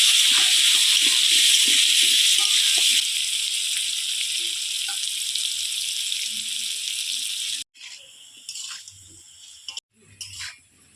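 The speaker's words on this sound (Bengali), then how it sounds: "এবার আলুটা ভেজে নেব লাল লাল করে" Potatoes frying in hot oil in a pan, a loud continuous crackling sizzle that steadies and softens before cutting off, then returns in shorter bursts.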